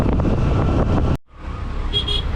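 Road traffic on the way to Alibaug, heard from a moving motorbike: steady engine and road rumble with wind buffeting, a brief dip in the noise partway through, then continuous rolling noise resuming.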